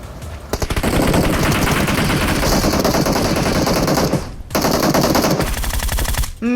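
Rapid automatic gunfire from PUBG Mobile, loud and close, bursts running almost continuously for several seconds with a short break near the end before firing resumes.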